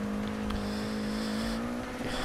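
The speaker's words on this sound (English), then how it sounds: "You know you're running too much power through the engine when you're wheel spinning in fifth gear up a hill." A Mini Cooper in Forza Motorsport 6 drones with a steady, high-strained engine note as its wheels spin in fifth gear up a hill, with faint tire noise underneath.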